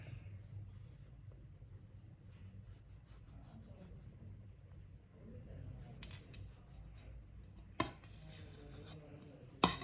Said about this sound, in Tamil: இப்போ இதை வந்து நல்லா பீஸ் போட்டு நம்ம கட் பண்ணிக்கலாம்.